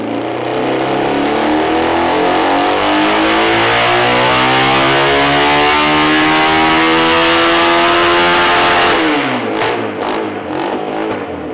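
A Honda CL175 motorcycle engine revs hard on a dyno, holding a loud, steady, rising drone for about nine seconds before the throttle closes and the pitch falls away.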